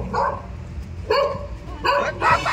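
A dog gives four short, loud barks and yips close by, spaced about half a second apart, with no talking.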